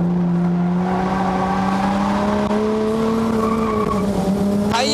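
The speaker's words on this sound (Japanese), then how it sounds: "タイヤのね、泣いてる音で" Korean-made tires such as the Roadstone N7000 squealing as a car skids on a test course, a loud continuous tonal screech whose pitch wavers and rises, with engine noise underneath and no talking.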